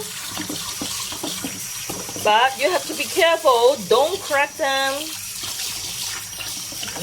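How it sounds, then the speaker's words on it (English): Tap water runs steadily over salted duck eggs being rinsed in a kitchen sink, a constant close hiss that continues beneath a person talking throughout. "you have to rinse the salted duck eggs under the running water"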